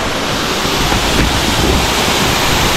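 The Catarata Las Vegas waterfall in the rainforest near Mazamari, flowing down from the mountains, gives a loud, steady, broadband rushing roar heard up close. It is continuous and unbroken throughout, with no talk.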